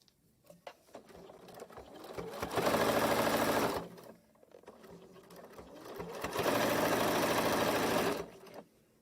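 Sewing machine stitching a 1 cm seam allowance along the bottom of a sashiko boro embroidered fabric basket, two loud close bursts of rapid stitching separated by a pause with fabric handling clicks.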